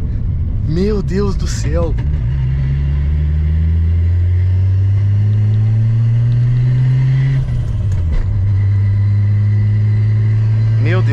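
A 600 whp BMW E36 engine revs hard and bangs off the rev limiter, rising in a loud roaring sweep, cutting out briefly, then climbing again; an excited voice exclaims over the engine near the start.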